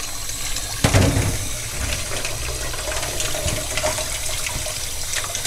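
Raw shrimp are rinsed under running water, a steady close hiss of flowing tap water with a brief louder splash near the start.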